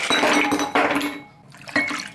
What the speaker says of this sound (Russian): И заливаем его холодной водой.